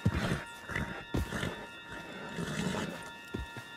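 A horse in the Red Dead Redemption 2 video game gives soft snorts and a faint whinny over light hoof clops, heard fairly quietly with scattered movement noise in the background.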